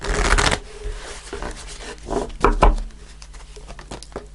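Tarot cards being shuffled by hand, with a dense burst of riffling at the start and a second flurry midway, then softer card handling. Close and fairly loud, with no one speaking.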